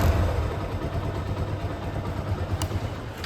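An engine runs with a steady, fairly quiet drone and mild wavering, its RPM no longer hanging when revved. No voices are heard.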